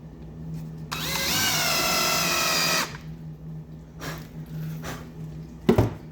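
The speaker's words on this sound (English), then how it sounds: "we're using countersink bit to sit on the underside here" A power drill with a countersink bit whirs in one steady, fairly loud burst of about two seconds while working on a project car's underside, followed by quieter knocks and a sharp clatter.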